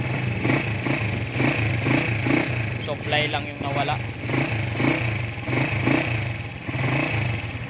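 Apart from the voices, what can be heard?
motorcycle engine running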